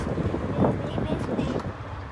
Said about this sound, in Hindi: इतनी अच्छी हवा चल रही है